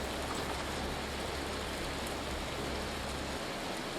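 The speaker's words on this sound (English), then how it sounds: "I didn't know this game had hail." Hail in Vintage Story falls as a dense, steady hiss of many small impacts, constant and even throughout, with no voices.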